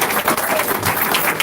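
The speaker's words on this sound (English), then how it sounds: "let's give them a round of applause" A crowd at a gathering claps for elected officials and candidates, a loud, dense burst of applause filling the whole moment close by.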